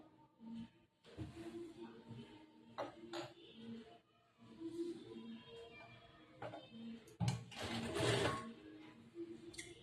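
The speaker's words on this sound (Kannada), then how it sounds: "ಆ ಅರ್ಧ ಇಂಚಿಗೆ ಸ್ಟಿಚ್ ಮಾಡ್ಬೇಕು ಇಲ್ಲಿ." A sewing machine stitches a chudidar top in short whirring bursts separated by pauses, close and fairly quiet, with a voice heard faintly at times.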